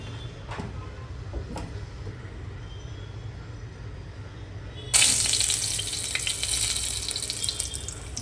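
Oil heats in a hot pressure cooker for dry mutton. After several seconds of near quiet, a steady hissing sizzle starts abruptly and keeps going to the end.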